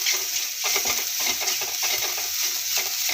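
Steady sizzling and frying of tomato in a pan with soft scraping stirs throughout, fairly close and continuous, no voices.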